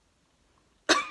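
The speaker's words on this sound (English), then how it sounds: "I got a cough" A single sharp cough from a woman bursts out close after near silence and fades briefly.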